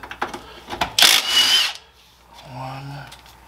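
A power tool, likely an impact gun, removing the 18 mm front strut bolts on a 2003–2011 Saab 9-3: a loud burst of whirring and hammering lasting under a second, preceded and followed by lighter metallic clicks and a lower motor hum.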